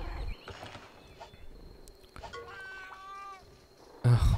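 A cartoonish cat meow comes from the Monster Hunter Stories video game: one drawn-out, wavering mew in the middle, over soft game ambience. A brief loud voice bursts in at the end.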